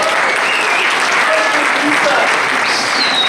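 Loud, sustained audience applause at The Jungle Academy 2020/21 awards night, close and continuous clapping from a room full of people, with a few whoops mixed in.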